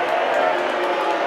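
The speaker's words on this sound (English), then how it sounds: "Warm reception from the crowd here at Emo Mania." Wrestling crowd at an Emo Mania show producing a steady, loud wash of cheering and general crowd noise with no clear breaks, voices blended into a broad roar.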